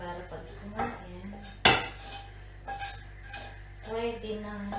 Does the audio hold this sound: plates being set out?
yes